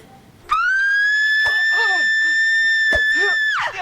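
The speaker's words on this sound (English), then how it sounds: "Here comes the dumbass scream in 3, 2, 1." A loud, piercing scream held steady for about three seconds from a High School Musical 2 movie clip cuts in sharply and breaks off at the end, with a faint voice just before it.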